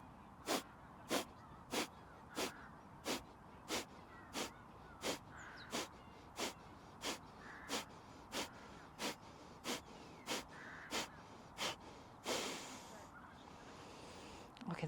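Forceful rhythmic breathing exercise with about twenty sharp, strong exhales at a steady pace of roughly two per second, each a loud close puff of air, ending in a longer, rougher breath.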